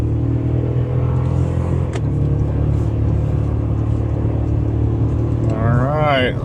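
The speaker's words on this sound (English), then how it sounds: "I'll accelerate so you guys can hear the engine again." A 2024 Toyota Tacoma TRD Off-Road engine accelerating on the road, a steady mid-pitched engine drone over tire and road rumble from inside the cabin, with a brief rising whine near the end.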